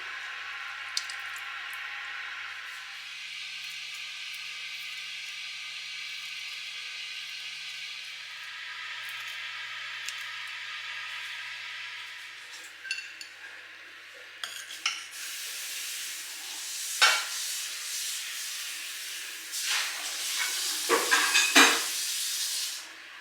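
Lemony tofu sauce simmering uncovered in a pan, a steady close bubbling hiss that runs throughout, later broken by scraping stirs and clinks of a utensil against the pan.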